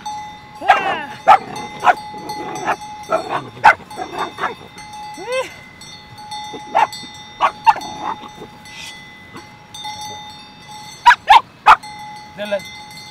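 A dog barks in sharp, repeated yips and short bursts, some close and loud, scattered across the clip with pauses between, alongside a sustained tonal hum, faint voices and a whimpering whine.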